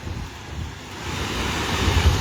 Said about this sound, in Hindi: काफ़ी तेज़ हवाएं भी इस समय चलती हुई